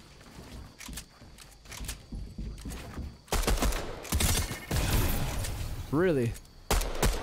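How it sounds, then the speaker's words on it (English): Pistol gunfire in a video game: rapid sharp shots, first sparse, then dense overlapping volleys from about the midpoint. A voice speaks briefly between the shots. "Oh, I love the damage on this pistol."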